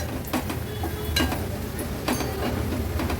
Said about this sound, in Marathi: हळद आणि मसाला पण तेलावर छान परतून घ्यायचा आहे